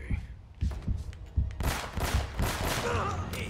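Gunfire in the Uncharted video game during a firefight: a run of rapid thuds gives way to a dense, loud burst of overlapping shots and echoing reports.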